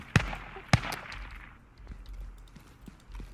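Two sharp, loud sniper gunshots crack about half a second apart in the video game Ground Branch, then fade into a quieter, low ambient background.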